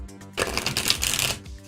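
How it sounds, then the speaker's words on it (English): A tarot card deck being riffle-shuffled at close range, a dense burst of rapid flapping card clicks lasting about a second, framed by quieter handling before and after. "this is feeling pretty darn shuffled"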